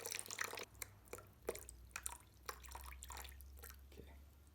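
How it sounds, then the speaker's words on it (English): Warm water poured into a container and measured on a scale for sourdough bread dough, a soft trickling and dripping with splashy bursts over a steady low hum, close by and fairly quiet. "And we're going to measure out this water."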